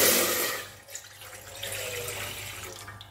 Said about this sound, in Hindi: इसमें डालेंगे हम 1 गिलास पानी